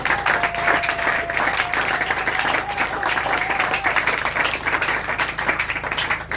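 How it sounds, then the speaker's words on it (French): A church congregation applauding and cheering during a sermon, a dense wash of clapping with scattered voices and a faint sustained tone, fairly loud and steady throughout. "Est-ce qu'on peut acclamer convenablement?"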